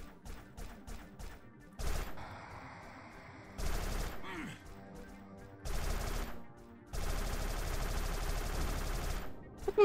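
Gunfire from a shooter video game rings out in repeated bursts, with rapid rattling volleys and louder sustained automatic fire near the end, close and loud.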